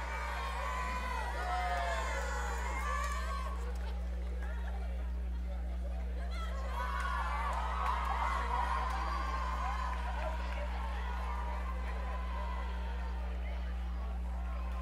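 A parade crowd at an evening street festival cheers and whoops for a passing high school cheer squad, a diffuse murmur of many voices with scattered shouts, fairly faint and over a steady low hum.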